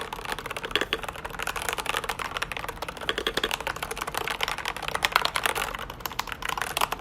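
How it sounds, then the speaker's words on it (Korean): Keys clack rapidly on a mechanical keyboard, a dense, uneven stream of taps heard up close without any talking. "타건은 한번 다시 들려드릴게요"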